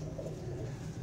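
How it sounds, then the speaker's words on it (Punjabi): A brief, faint, low cooing from wet pigeons huddled inside a box. "ਕਬੂਤਰ ਵਿਚਾਰੇ ਡੱਬੇ 'ਚ ਆਏ ਨੇ ਅਤੇ ਉਹਨਾਂ ਦੀ ਹਾਲਤ ਥੋੜ੍ਹੀ ਗੈਰ ਹੋਈ ਹੈ ਉਹ ਗਿੱਲੇ ਹੋਏ ਨੇ"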